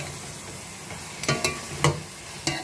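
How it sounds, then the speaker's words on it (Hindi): Diced potato pieces fry in a pan with a soft, continuous sizzle, then a few distinct stirring scrapes and clatters break in toward the end, close by with no talking. "ये आलू भून रहे"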